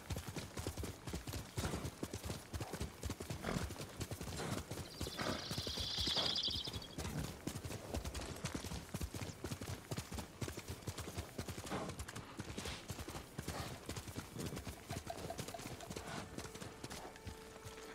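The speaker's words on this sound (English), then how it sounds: "My trusty steed." Horse hooves clip-clop steadily at a walking pace in the samurai video game Ghost of Tsushima, a continuous rhythmic trot under ambient game sound, with a brief brighter rustle midway.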